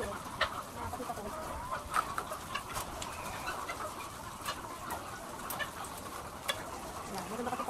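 Ready-to-lay chickens under treatment for coryza cluck and chirp in a flock, with repeated short calls nearby throughout and faint talk in the background.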